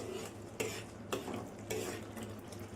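A spoon stirs egg keema masala curry in a pan, scraping softly with a few sharper clinks against the metal at regular intervals, quiet and close with a low background hum.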